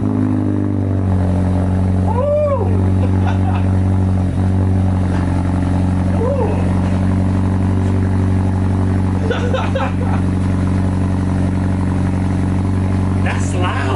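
A 2014 Mazda3 with a muffler delete cold-starts into a loud, droning idle that holds steady throughout, while people talk and react excitedly over the engine.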